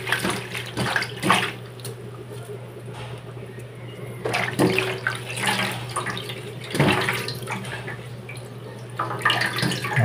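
Water runs steadily from a tap while vegetables are washed in a kitchen, a continuous close splashing flow with shifting surges.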